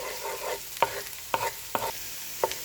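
Onions and white cumin frying in a pan make a continuous sizzle. A spoon clacks against the pan four times while the mixture is stirred.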